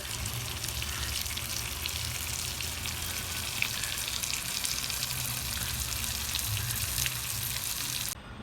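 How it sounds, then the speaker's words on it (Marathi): Stuffed brinjals fry in a pan of oil with a continuous dense sizzle and crackle, steady and fairly close, cutting off right at the end. "वांगे मस्तपैकी फ्राय व्हायला लागले"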